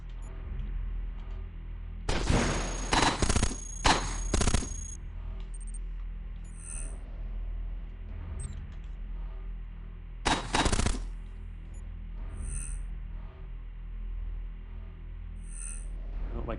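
Rapid bursts of weapon fire from a Nova Cannon in the video game Cogmind crackle in loud rattling volleys, two main clusters with a few isolated electronic blips between, over a quiet low hum.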